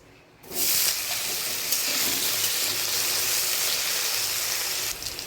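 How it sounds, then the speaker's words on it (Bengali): Cut potatoes dropped into hot oil already tempered with cumin seeds and bay leaf, bursting into a loud, steady, broadband sizzle that holds evenly after a quiet start, with a brief stir clatter near the end. "তেলটা গরম হয়ে গেছে, এর মধ্যে আমি সাদা জিরে আর তেজপাতা ফোড়ন দিয়ে দেবো। এবার কেটে রাখা আলুগুলো এর মধ্যে দিয়ে দেবো।"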